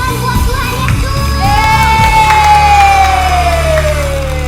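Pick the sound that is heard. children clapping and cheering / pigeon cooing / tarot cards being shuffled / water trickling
children clapping and cheering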